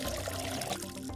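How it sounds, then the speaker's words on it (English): Water pouring from a watering can in the game Schedule I: a steady, continuous stream of splashing liquid, fairly close and alone, with a faint background hum. "Next, grab the watering can."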